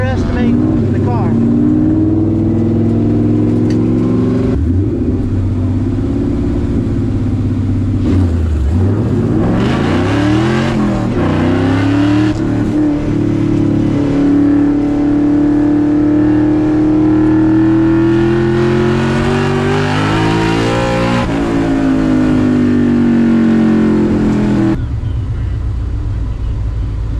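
A Ford EcoBoost Mustang at an all-Ford drag racing day in Texas revs and accelerates hard, its engine note climbing and falling in sweeping pitch changes over a steady rumble, loud and sustained with a brief lull partway through.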